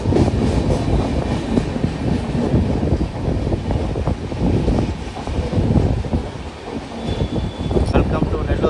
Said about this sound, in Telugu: ఈ ట్రైన్ గురించి చెప్పాలంటే ఓకే ట్రైన్ అయితే కొంచెం స్పీడ్ అయితే ఓకేగా ఉంది.